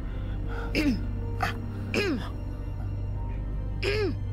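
A person coughs in short bursts, three or four separate harsh coughs spaced over a few seconds above a low steady hum.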